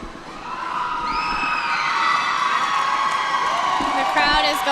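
A crowd cheers at a college women's gymnastics meet, loud sustained shouting and high-pitched whoops from many children and adults filling the arena, rising further near the end.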